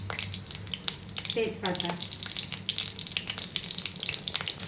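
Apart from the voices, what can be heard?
dry chilli, cumin and bay leaf frying in mustard oil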